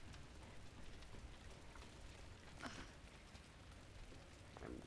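Faint, steady rain falls in Resident Evil 2 as a soft continuous patter, with a few slightly louder drops landing near the middle and the end.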